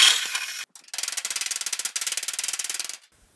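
A power driver sends a screw into a steel car body panel on a 1940 Ford Coupe inspired build, a fast rhythmic ratcheting whir in two bursts after an opening hiss, close and fairly loud.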